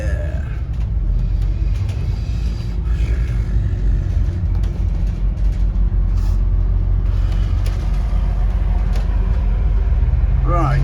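Riding aboard a 2008 Scania N230UD OMNICity bus on a local route: a deep, steady engine rumble with road noise and occasional rattles and hisses, loud and close throughout.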